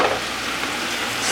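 Spinach hitting hot oil with sizzling onions and chili pepper in a skillet, a steady loud hiss and crackle close by with no voices.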